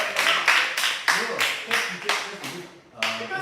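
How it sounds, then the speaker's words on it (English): Students in a chemistry class clap in a quick, even rhythm of about a dozen sharp, close hand claps, with a short pause near the end, and faint voices underneath. "Clap for him, that's your answer."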